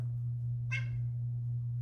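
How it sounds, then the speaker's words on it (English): A cat gives a single short, clear meow close by, over a steady low electrical hum in an otherwise quiet room. "This is my cat, Raz."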